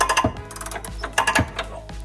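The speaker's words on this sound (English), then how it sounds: "That cracking noise you can hear are just these springs as everything gets loosened up." Sharp metallic cracks and clicks from exhaust springs as bolts are loosened on a Holden Astra TS muffler install, a few bursts spaced across the clip with mechanical rattling in between, close by and fairly loud.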